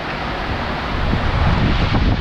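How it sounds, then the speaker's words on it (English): A steady, heavy roar of strong wind during a storm in Nepal rumbles across the microphone, loud and unbroken. "It is crazy, crazy windy."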